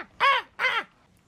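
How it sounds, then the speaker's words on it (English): Two harsh, loud crow-like caws come one after the other, each lasting about a quarter second, close and clear against near silence. "Sounds very much like just angry birds squawking."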